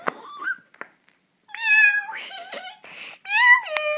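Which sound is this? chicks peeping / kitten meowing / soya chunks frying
kitten meowing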